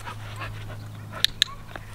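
A dog, among puppies, pants softly and steadily close by, with a couple of sharp clicks or taps breaking through near the end.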